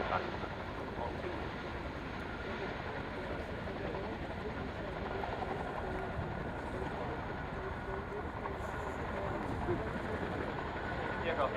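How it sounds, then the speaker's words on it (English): A helicopter maneuvers at the Royal International Air Tattoo 2011 air show, its rotor and engine producing a loud, continuous roar that stays steady throughout. "Trying to slow down the aircraft, doing what not many other helicopters can do."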